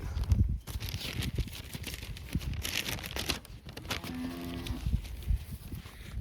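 Cattle mooing at a farm where cows are offered for sale, several low lowing calls in close succession over rustling and background noise.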